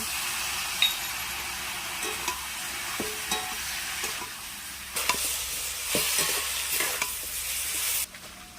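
Spices sizzle and crackle in a hot pan while a utensil stirs and scrapes with occasional clinks, steady and close.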